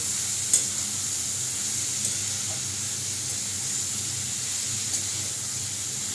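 Chopped capsicum and boiled potato sizzle in a hot pan with a constant soft hiss and crackle, broken by a few light knocks of stirring, and no one speaks.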